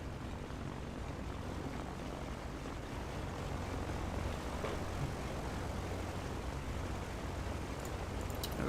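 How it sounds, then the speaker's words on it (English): A light propeller plane's engine in Microsoft Flight Simulator 2020, idling at low RPM on an old runway or taxiway, gives a steady, even drone that holds at the same level throughout, with no voices. "I have a feeling my plane is struggling a little bit at such low RPM"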